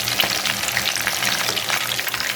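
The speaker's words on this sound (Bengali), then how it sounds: "এই যে দেখেন আমার মাছ ভাজা হয়ে গেল" Fish fries in hot oil in a pan, a close, dense crackling sizzle with bursts of popping and no voices.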